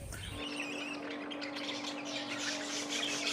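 A pair of pet conure parrots, a male and a female, give bright chirps and harsh squawks outdoors after rain. The calls come in quick overlapping bursts over a constant low hum, with no voices.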